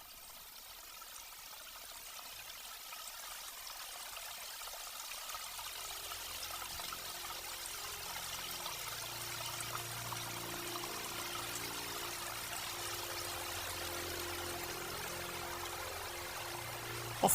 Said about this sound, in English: The Las Piedras River is bursting its banks. Entire trees are carried away with the current.